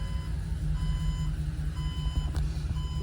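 Steady, evenly spaced reversing beeps from a 2022 Ford E-350 Super Duty box truck with a 7.3-liter V8 engine, sounding over a low idling engine rumble, with no voices.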